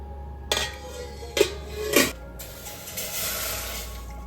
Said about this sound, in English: I'm placing this on the